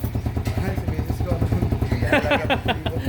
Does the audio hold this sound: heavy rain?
no